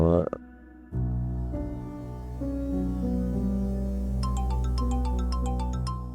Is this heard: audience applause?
no